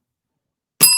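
A small bell rings once after a joke on a podcast, striking suddenly out of silence near the end with a bright, sustained metallic ring.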